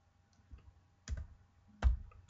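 A few sharp, close keystrokes on a computer keyboard enter a semicolon and Shift+Enter in the wxMaxima math software: a soft tap, then two louder, separate clicks over a quiet room.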